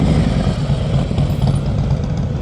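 A motorcycle engine idles steadily through a slow-speed riding practice course with cones, a continuous low rumble throughout with no talk over it.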